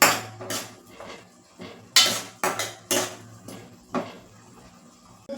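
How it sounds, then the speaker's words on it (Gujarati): A spoon scrapes and clanks against a pan while garlic chutney is stirred into an eggplant and potato curry, with about eight sharp metallic knocks at uneven intervals, close and clear over quiet gaps. "બધી ચટણી એડ કરી આપણે બરાબર મિક્સ કરી લઈશું."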